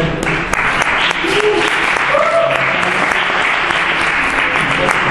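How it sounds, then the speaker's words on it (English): A stand-up comedy show audience claps steadily and loudly throughout, with a few scattered cheers and whoops mixed into the applause. "Another round of applause for all your performers."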